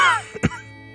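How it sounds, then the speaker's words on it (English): A single short, rough cough, close and fairly loud, trailing off after a breathy start. "He let out another wheezing cough and tensed up."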